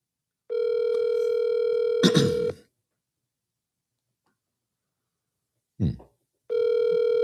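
An outgoing cell phone call rings back before reaching voicemail. Two long electronic ring tones are separated by a silent gap, with brief clatters and handling noise in between.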